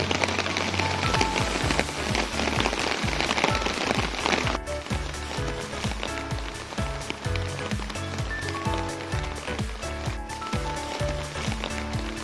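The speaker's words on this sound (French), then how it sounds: "Bon, il pleut pas beaucoup." Light rain falls in the jungle on Koh Samui, a steady patter of drops on leaves and surfaces with rhythmic thuds that sound like footsteps, continuous and fairly close.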